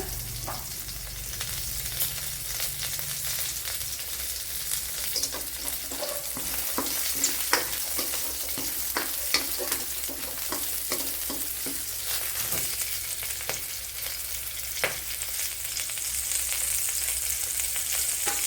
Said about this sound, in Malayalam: ഇത്രയൊന്ന് മൂപ്പിച്ചെടുക്കാം